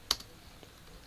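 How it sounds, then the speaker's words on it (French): A few keystrokes on a computer keyboard as a ping command is typed while configuring a Cisco router, one sharp tap standing out, close and fairly quiet. "je tape ping"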